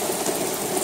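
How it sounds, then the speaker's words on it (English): Steady rush of wind and rain during Hurricane Isaias, a dense, even wash of noise with no pauses across the brief moment. "Oh, the wind and rain's picking up."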